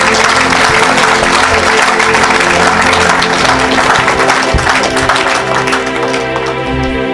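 A church congregation claps steadily and loudly in praise of the Lord, with sustained applause over a background of music or singing voices that fills the room throughout.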